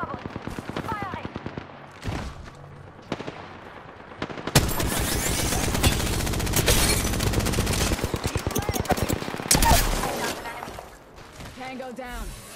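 Gunfire in Apex Legends: rapid automatic bursts crackle loudly and continuously for several seconds, with a crash near the end and sparse in-game voice lines before and after.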